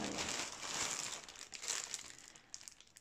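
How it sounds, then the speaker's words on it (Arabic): A plastic-wrapped SHEIN parcel is torn open, giving soft, close crinkling and rustling of plastic film in uneven bursts that fade toward the end. "يلا نفتح الشحنة."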